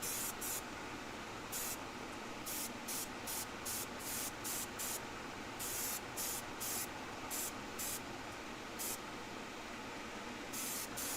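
An airbrush sprays a light coat of Vallejo paint onto a die-cast fire engine in a run of short, sharp hissing bursts separated by brief pauses over a constant low hiss.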